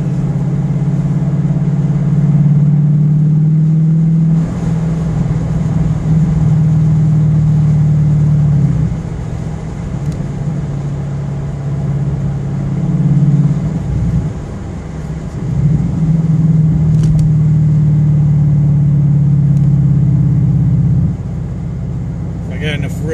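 A 2015 Ford Mustang GT fitted with a Magnaflow exhaust and FRPP X-pipe pulls hard through the gears on a street, its deep, loud engine drone rising and dropping across shifts and nearly constant throughout.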